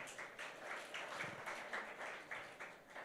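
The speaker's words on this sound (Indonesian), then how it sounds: "Ya kita berikan tepuk tangan kepada mereka saudara." Applause from a church congregation at a Passover service, rhythmic clapping that sounds faint and somewhat distant and carries on steadily for a few seconds with no talk over it.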